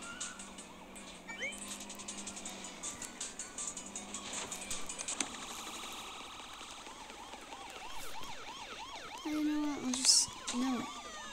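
Police car sirens wail in the Smashy Road mobile game, with overlapping electronic siren tones over engine noise, then crashes and game effects join near the end.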